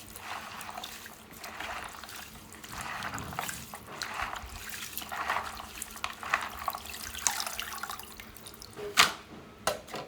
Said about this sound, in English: For you to extract this water, you add water to the pounded